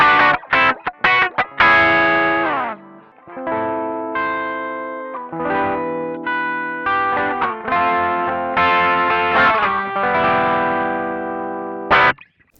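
Electric guitar played through a BOSS SD-1 Super OverDrive pedal with the gain turned down for a lighter crunch, heard alone and close: a few choppy strums, then sustained ringing chords and phrases with a short pick noise at the end.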